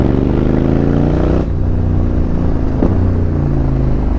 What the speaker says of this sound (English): On that downshift, it just gives a blip, and with this exhaust